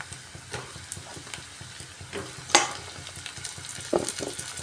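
Large chunks of potato and onion with whole garlic cloves frying in a pan, a soft, close sizzle broken by a few scraping stirs and light clinks, with no voices.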